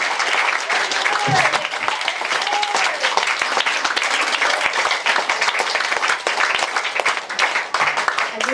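A church congregation applauds loudly and continuously, a dense wash of clapping that fills the whole stretch, with faint voices mixed in.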